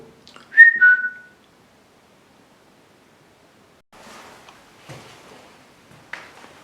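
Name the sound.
someone whistling in old gaol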